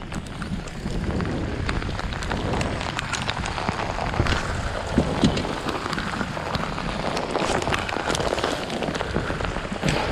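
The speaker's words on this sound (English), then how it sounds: "The rain has been on and off enough to where I'm just kind of sick of it." Rain falls on open water during a fishing trip in nasty conditions, a dense, steady patter of drops with gusts of wind buffeting the microphone, no voices.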